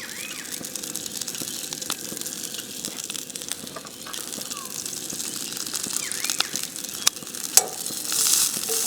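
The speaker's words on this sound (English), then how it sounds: "Bit of olive oil. Just go straight in with your broccolini." Broccolini is frying in olive oil with grated garlic at an outdoor camp stove, giving a constant crackling sizzle with occasional stirring clicks and scrapes, close and alone, growing slightly louder toward the end.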